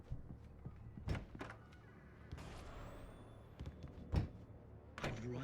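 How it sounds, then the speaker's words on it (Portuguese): A car door slams shut in Alan Wake Remastered, with several heavy thunks and bangs spread across a quiet, tense background, the loudest impact near the end, plus a faint rising mechanical whine midway. "fechou a porta"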